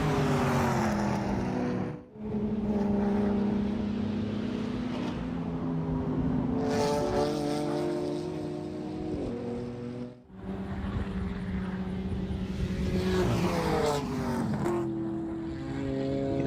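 Race cars, including GT4-class machines such as a BMW, roaring past on the front straight at New Jersey Motorsports Park during an endurance race, loud sustained engine drones rising and falling as cars pass in close succession.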